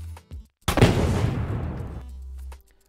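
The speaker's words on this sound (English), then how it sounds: "So here we have the start of the explosion." A game explosion sound effect, in which a brief low thump is followed by a sudden loud blast with a long, roaring, crackling tail that fades out after about two seconds.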